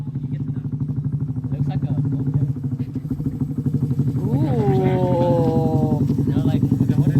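A motorcycle engine runs during a private riding lesson, giving a steady, pulsing mid-pitched rumble that carries throughout while people talk over it.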